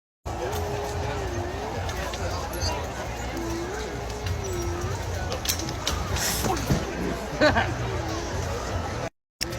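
A packed protest crowd on the National Mall, a broad steady outdoor hubbub of many distant voices with scattered nearer chatter and occasional louder bursts.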